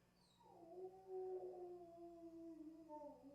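Dogs howling and crying together indoors, a long wavering howl rising and sliding in pitch, faint and somewhat distant, with no talk over it.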